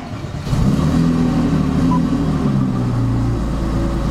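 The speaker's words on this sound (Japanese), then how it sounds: "ちょっとエンジンかけてみたいと思います。" A Porsche 911 GT3 flat-six with a Kreissieg exhaust starts up, catching after a brief moment and settling into a loud, close, deep burbling idle.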